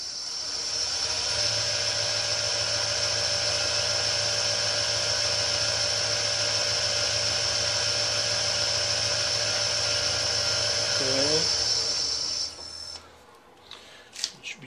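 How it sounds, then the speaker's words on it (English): A number 7 drill bit bores steadily for about twelve seconds as one loud, continuous high-pitched whine. The pitch briefly dips before the bit winds down and stops, followed by a few faint clicks. "It should be good enough to start my number 7 drill."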